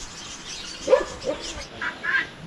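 Household dogs roaming freely outdoors give a few short, faint barks, spaced apart at a distance, with no talk over them.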